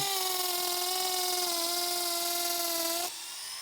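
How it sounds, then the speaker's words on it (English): A high-pitched drill with a 3/8 inch bit whines steadily for about three seconds boring into a tree, then cuts off abruptly, leaving faint background noise. "I was able to drill a hole in it with a 3/8 inch drill bit"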